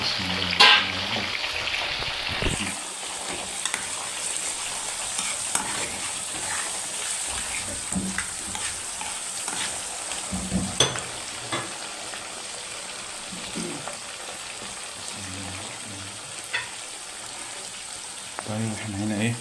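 Eggplant fries in a pan with a continuous bubbling sizzle that holds steady, broken by occasional louder crackles and stirring clatter.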